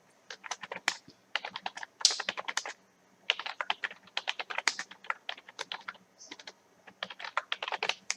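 Rapid typing on a computer keyboard, close and clear: bursts of quick key clicks with short pauses between runs, no voices.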